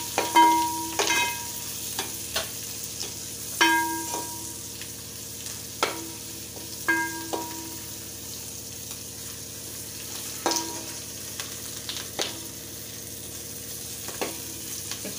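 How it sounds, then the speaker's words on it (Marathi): Green chillies and turmeric sautéed in oil in a pan for Nagpur-style thin poha chivda, a continuous soft sizzle with a spoon stirring and scraping the pan in slow repeated strokes, close, no talk. "एक 5 मिनिटं परतून घ्यायचं"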